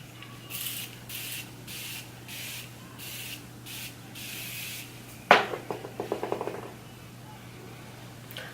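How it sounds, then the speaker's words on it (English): Morphe Set and Mist setting spray misted onto a face, a few short pumped hisses in a row, followed by faint rubbing and handling sounds, close and fairly quiet. "set my face with this Set and Mist Spray by Morphe"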